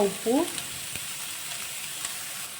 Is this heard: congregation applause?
no